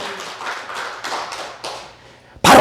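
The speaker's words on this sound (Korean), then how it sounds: "박수 박수 박수 박수." A church congregation claps in a steady rhythm, with roughly half a dozen even beats close by. A sudden loud burst of noise cuts in at the end.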